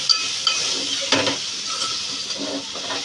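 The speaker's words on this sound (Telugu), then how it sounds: "వాళ్ళ వరకు బంగాళదుంప అయితే ఒక 2-3 బంగాళదుంపలు కట్ చేసి అయితే ఫ్రై అయితే చేస్తున్నాను" Cut potatoes frying in a pan give a soft sizzle, broken by a few sharp clinks and scrapes of a utensil stirring against the pan.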